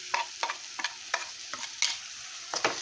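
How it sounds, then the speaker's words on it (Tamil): Fried okra being stirred into a Kerala-style kara kuzhambu curry in a pan, with a series of separate scraping stirs at an uneven rhythm over a soft sizzle, close and moderately loud, no talk. "நம்ம இந்த வெண்டைக்காய் வதக்கி வச்சோம்ல அதையும் இதில் போட்டு கிளறிக்கோங்க"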